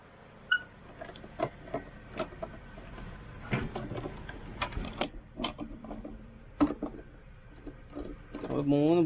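Bolts being loosened on the rear body panel of a scooter, a quiet series of scattered metallic clicks, taps and ratcheting rattles, fairly close, with no voices.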